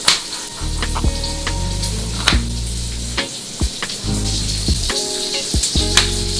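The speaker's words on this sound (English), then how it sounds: "we're just going to let the bacon crisp up while I make some more." Bacon frying in a skillet over medium-high heat, a steady close hiss and sizzle with scattered sharp pops and crackles, heard on its own without talk.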